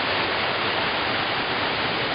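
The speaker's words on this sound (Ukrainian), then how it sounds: "по ходу їзди до водоспаду дуже багато таких є потоків, які зараз повноводні" Swollen mountain stream and small waterfalls in the Carpathians after rain, a dense, steady rushing of water heard close and loud, unbroken and without voices.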